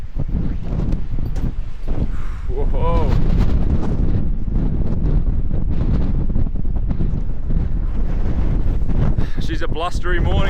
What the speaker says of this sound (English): blustery morning out here